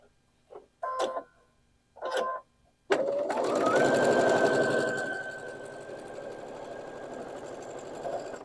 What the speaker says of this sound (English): Sew right past them, but leave your needle down and your foot down